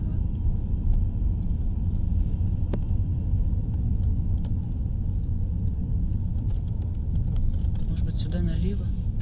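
Car driving through city streets in Shymkent, Kazakhstan, heard from inside as a steady low engine and road rumble, with a voice talking over it.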